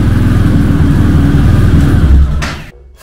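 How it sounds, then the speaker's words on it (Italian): A Fantic motorcycle engine runs loud and close right after starting, a steady throbbing rumble that cuts off abruptly near the end. "E si accende anche la moto."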